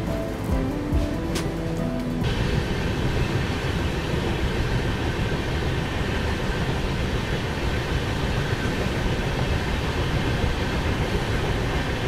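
The Tirumala Express passenger train rolls along at speed on the Kadapa–Vijayawada run, a loud, dense, continuous rumble and rattle heard from inside the carriage, briefly preceded by a tonal horn-like sound at the start.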